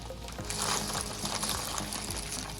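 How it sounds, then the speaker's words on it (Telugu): Tube-shaped pasta dropped into a pot of boiling water, a close, quiet bubbling and splashing rush that swells as the pasta goes in and keeps churning throughout. "దీంట్లో మనం పాస్తా వేసుకుందాం."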